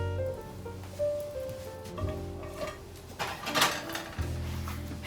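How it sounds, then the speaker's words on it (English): Meat and vegetable mixture for a low-carb Salisbury steak casserole spooned into a casserole dish, with soft scraping, wet plops and spoon clinks on the dish, fairly quiet and uneven, without talk. "I'm going to go ahead and put our meat and vegetable mixture into the casserole dish."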